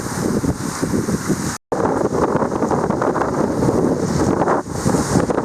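Strong wind buffets a sailboat at sea on a windy passage near Mossel Bay, with loud gusty roaring and rushing water throughout, one brief sharp dropout early on, and no voices.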